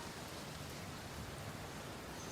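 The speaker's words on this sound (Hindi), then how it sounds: "बाहर तो देखो कितनी तेज बारिश हो रही है।" Heavy rain falling in a cartoon forest scene, a soft, steady, even wash of rain noise with no talking, staying constant throughout.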